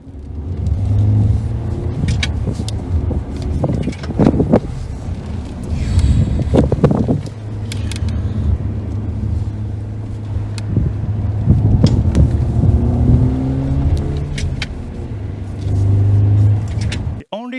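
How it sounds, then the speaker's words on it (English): A car engine rumbles and revs up and down, with wind buffeting the microphone throughout. "and of course, engine sound."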